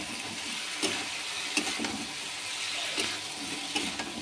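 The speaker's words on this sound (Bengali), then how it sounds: "ভালো করে নাড়বো।" Fried crab and potato are stirred into masala in a pan, with a soft, constant sizzle broken by several brief scraping taps of the spoon, close up and with no voices.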